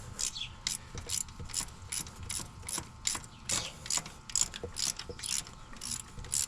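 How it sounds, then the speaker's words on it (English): A ratchet loosening two bolts on the EGR valve of a Tahoe, a series of sharp clicking pawl bursts in an irregular rhythm, fairly quiet and close, with no voices. "I just wanted to loosen these bolts and show you guys which ones to loosen."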